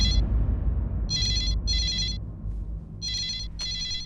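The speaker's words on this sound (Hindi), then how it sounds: "आपके लिए फोन आया, किसी लड़की का फोन आया" A telephone ringtone rings in repeated electronic bursts, a pause between pairs, over a low steady background hum.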